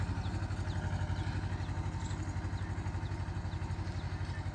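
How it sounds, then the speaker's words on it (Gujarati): A mini tractor engine runs steadily at idle on a farm field, a low, even chugging with a regular pulse that continues throughout at moderate distance, with faint high chirps above it and no talk. "ટ્રેક્ટર સેવાનું ચાલુ કરી દીધું"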